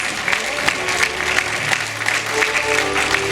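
Pageant audience applauding the newly crowned Miss Ziemi Otwockiej 2016 winner, steady crowd clapping with a low tonal hum beneath.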